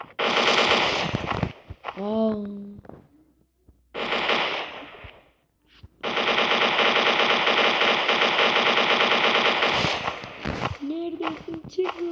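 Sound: gunfire in Counter-Strike 1.6 video game

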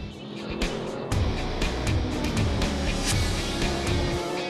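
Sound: BMW race car going off the track

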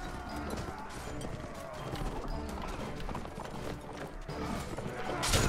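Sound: horse galloping in video game Mount & Blade Warband

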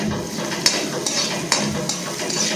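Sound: ginger and garlic frying in oil until golden

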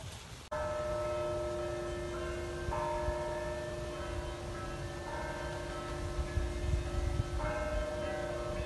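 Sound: church bells ringing

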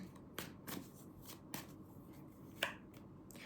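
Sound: tarot cards being shuffled

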